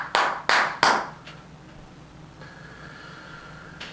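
Three sharp, close hand claps in quick succession, about a third of a second apart, then a faint steady background hum with no further clapping.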